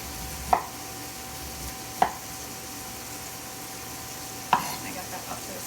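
A big sharp knife chops corn kernels off the cob for a chard and caramelized onion flatbread, giving three sharp, isolated cuts spaced a second or two apart against a quiet kitchen background.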